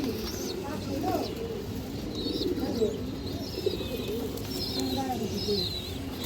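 A loft of more than two hundred pigeons, including high-flyer breeds, cooing in soft repeated throaty calls with some chirps, heard under someone talking close by.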